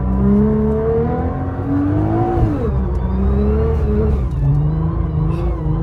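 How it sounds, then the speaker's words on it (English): Nissan R35 GT-R driving on snow, a steady straight-cut third-gear whine rising and falling with engine speed over a loud continuous engine drone, close and alone without talk. "Hearing the whine from the third gear straight cut, it's just so nice."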